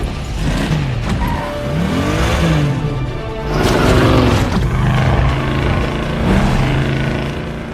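A car engine revs and accelerates, its pitch sweeping up and down through gear changes, loud and close with a steady roar beneath.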